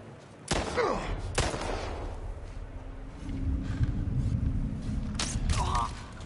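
Several sharp bow shots in The Last of Us Part I, quick twangs and impacts spaced a second or so apart over a low ambient background.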